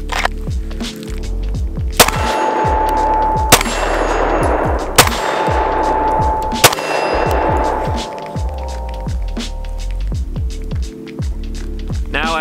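A custom M&P 2.0 pistol fires four loud, sharp shots spaced a second or two apart, each ringing briefly over a low background hum.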